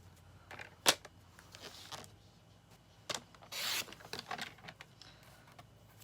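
Green card paper trimmed for a plaid-wrapped Christmas card: a sharp cutting snap near the start, then a few brief scraping and rubbing sounds, with one longer rasp midway, close and fairly quiet, with no voices.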